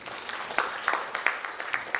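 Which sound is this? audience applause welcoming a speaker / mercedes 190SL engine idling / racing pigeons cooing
audience applause welcoming a speaker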